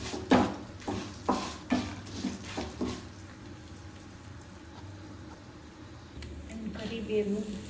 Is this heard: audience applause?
no